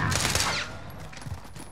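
Shotgun blasts in a Killhouse first-person shooter match, a loud burst of gunfire at the start that decays into fainter distant shots.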